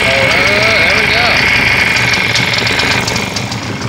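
The small two-stroke engine of a Husqvarna leaf blower, freshly rebuilt with a new jug and piston, runs loudly and continuously up close, with a brief voice-like warble at the start.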